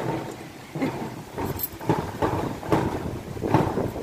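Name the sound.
strong wind blowing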